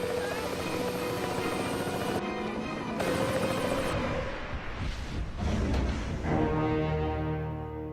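A helicopter hovers over a twelve-story building during a film stunt, its rotor throbbing and engine droning loudly and steadily, with whooshing surges and shifting intensity throughout.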